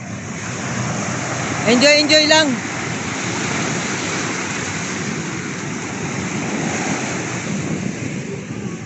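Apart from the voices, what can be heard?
strong sea waves at Tanza, Cavite beach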